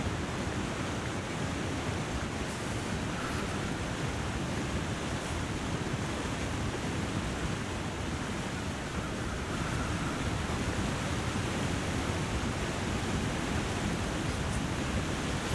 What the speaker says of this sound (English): Apologies for going right near the really loud waterfall